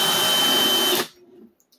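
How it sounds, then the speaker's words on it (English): A power drill bores a hole into a wall for a plastic anchor, a loud steady whirring for about a second that cuts off abruptly, leaving near silence. "wiggle it, the drill, while it's in there just a little bit to create a little extra space if needed"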